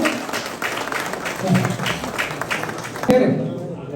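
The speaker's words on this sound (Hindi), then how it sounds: "तालियों से इनका अभिनंदन किया जाए।" Audience applause at a farewell ceremony for an official, steady clapping from a crowd with voices mixed in, ending in a louder burst before fading.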